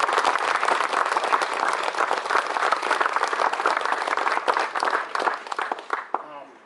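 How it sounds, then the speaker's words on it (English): An audience applauds the behind-the-scenes crew at a boat company's launch dedication, a dense, steady wash of clapping that carries for several seconds before tapering off at the end. "So just a quick round of applause to all the people behind the scenes."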